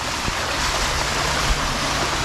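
Storm water pours down from the street above during a heavy rainstorm in Los Angeles, a steady, broadband rushing wash that continues without pause, close and fairly loud with no voices.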